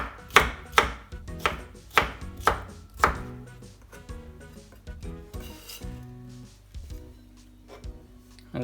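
A knife chops cucumber into strips on a cutting board with a quick run of crisp, close knocks, then slower, softer cuts and light rubbing and clinking as the pieces are lined up; no talking.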